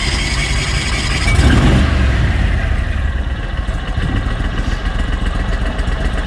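An Argo 8x8 amphibious vehicle's engine runs steadily with a little throttle, a loud, continuous mid-pitched drone that swells briefly near the start, then settles into an even idle.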